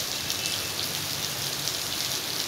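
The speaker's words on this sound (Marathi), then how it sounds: "पहाटेपासून पावसाचा जोर वाढलेला आहे" Heavy monsoon rain pours down in Pune, an unbroken dense hiss of drops on surfaces, steady and fairly loud throughout with no talking.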